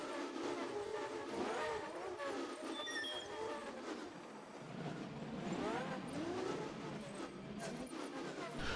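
Simulated road traffic in the city-building game Cities Skylines, a continuous wash of car engines rising and falling with overlapping revving passes and faint whistling tones, moderately quiet and without speech.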